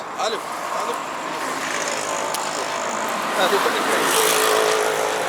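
Tuk-tuk auto rickshaw engine running on a street in Khartoum, Sudan, a steady motor drone with passing traffic and a passing vehicle swelling near the end, voices talking over it.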